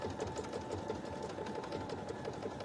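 A sewing machine stitches decorative stitches on a vintage hankie crazy quilt, running in a steady, fast, even whir with rapid needle clatter throughout, close and continuous.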